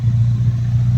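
Ferrari SF90 Stradale hybrid sports car with petrol and electric motors idling just after starting, a close, loud, steady low rumble with a deep droning hum and no talk over it.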